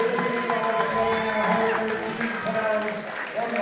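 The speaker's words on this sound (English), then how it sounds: "there's going to be some cheering in the background as well" Crowd noise at a high school boys wrestling district final in a gym, a steady wash of cheering and applause with scattered shouts, fairly loud throughout with voices mixed in.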